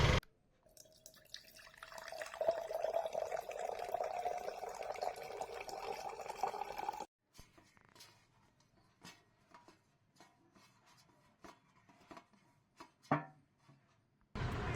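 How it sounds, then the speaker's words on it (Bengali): Water is added to bael fruit pulp, which is then squeezed and kneaded by hand. A steady trickle of water comes first, followed by soft, wet squelching and scattered drips, close and fairly quiet. "তারপর বেলের মধ্যে একটু জল দিয়ে বেলটাকে খুব ভালো করে কচলে নেব।"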